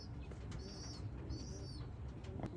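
Racing pigeons coo faintly in a loft after a race, giving two soft, drawn-out calls over a steady low background rumble.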